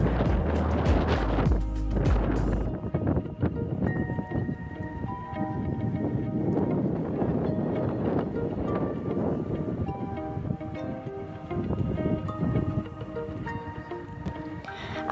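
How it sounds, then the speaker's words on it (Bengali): Strong wind roars and buffets steadily in Yumthang Valley, North Sikkim, near a river, with rattling and clattering noises mixed in and no voices. "হাওয়াও খুব জোরে জোরে বইছে এখন"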